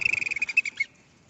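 Cricket sound effect device on a motorcycle, a quick rapid chirping trill of about a dozen pulses that stops abruptly, close and alone.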